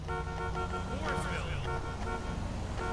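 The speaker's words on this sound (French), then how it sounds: "Klaxonner, moi je veux klaxonner" A car horn honks in Grand Theft Auto V, with steady horn tones and a rising, wavering tone over dense game traffic noise and engine hum, loud and close throughout.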